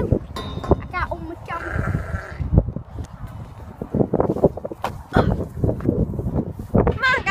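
Sheep bleat outdoors on a windy farm field, with several cries rising over wind noise and people talking and calling nearby.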